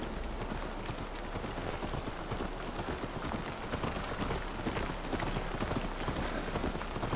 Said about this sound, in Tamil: மழைலாம் பெய்யுது மக்களே.